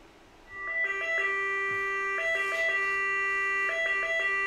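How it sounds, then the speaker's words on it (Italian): An Arduino-driven two-tone siren beeps out electronic tones, bright buzzy alternating pitches switching on after a short quiet lead-in and repeating in steady cycles, close and alone. "la sirena riproduce i suoi toni senza problemi"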